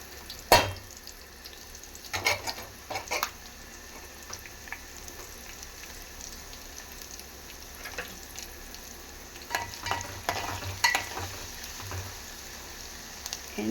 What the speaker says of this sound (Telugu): బాండీ పెట్టుకొని ఆయిల్ పోసుకొని దాంట్లోకి ఒక చిన్న ఉల్లిపాయ ముక్క అండ్ 2 పచ్చిమిర్చి